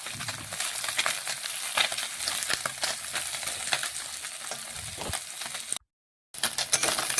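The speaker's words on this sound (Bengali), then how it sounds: "সেগুলো কিন্তু ভালোভাবে খুরপি দিয়ে উল্টে তেলের মধ্যে দিয়ে দিতে হবে, তাহলেই লাল লাল ভাজা হয়ে যাবে।" Fish frying in hot oil with potato, sizzling steadily throughout and broken by light metallic clinks and scrapes as a spatula turns the pieces, with a brief silent gap near the end.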